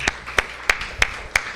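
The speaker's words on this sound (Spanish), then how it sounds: "¿Por qué no le das un aplauso al Señor," Five evenly spaced sharp claps ring out in a church, crisp and close, each a single strike with a short decay, steady in rhythm and with no voices between them.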